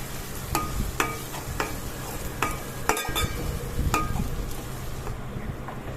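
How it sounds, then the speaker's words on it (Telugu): About three sprigs of curry leaves fry in hot oil for Telangana fish curry, giving a steady close sizzle with sharp crackles and pops scattered through it and occasional stirring, with no voices. "కరివేపాకుని కూడా ఆయిల్లో మంచిగా ఫ్రై అవ్వనివ్వండి"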